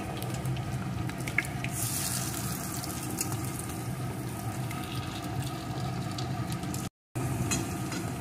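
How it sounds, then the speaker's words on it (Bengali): Gokul pithe, a Bengali sweet dumpling, fries in oil over medium to low heat, giving a steady, even sizzle with faint bubbling patter, close and continuous apart from one brief dropout near the end. "উল্টে উল্টে মিডিয়াম টু লো আছে এগুলোকে ভেজে নেব"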